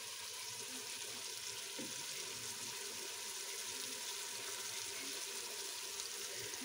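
Water poured into a pot of chicken and turnip (shalgam gosht) curry, a steady, faint watery wash running through the whole stretch with no talk.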